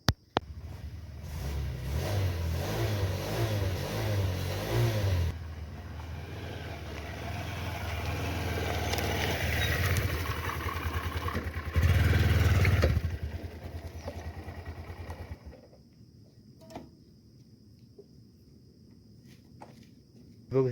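A freshly washed motorcycle with its engine running, a low steady idle that rises and revs for several seconds before cutting off, leaving quiet with faint clicks and a sharp knock at the end.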